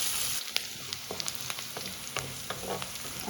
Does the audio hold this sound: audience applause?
no